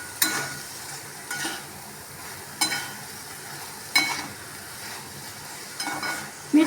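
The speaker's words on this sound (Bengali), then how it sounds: "পুরো বোঁয়ার পল্লিটা আমি তেলে দিয়ে দিলাম।" Bottle gourd peel fries in oil with spices, with a soft continuous sizzle broken by a spoon scraping the pan in repeated strokes roughly every second or so.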